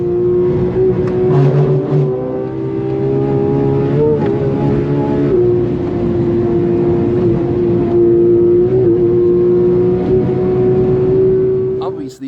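A high-revving Porsche GT3 RS MR engine holds a loud, steady whine as it accelerates flat out at about 220 on the Nürburgring, with brief gear-shift dips and a constant roaring drone throughout.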